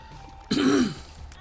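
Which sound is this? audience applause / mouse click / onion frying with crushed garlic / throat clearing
throat clearing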